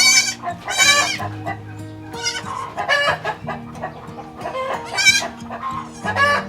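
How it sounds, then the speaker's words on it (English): Young goat kids on a free-range farm bleat repeatedly in loud, wavering cries close by, mixed with clucking chickens in the background. "Very lovely kids of this goat."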